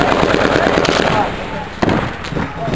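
Mortar rounds firing during a fire-for-effect mission in Afghanistan, heard as loud, dense bursts of blasts with a sharp crack near the middle, while soldiers' voices come through underneath.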